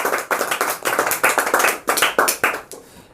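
A class of students claps after a correct quiz answer. About eight sharp, close bursts of hand clapping come in a quick, uneven rhythm and then fade out.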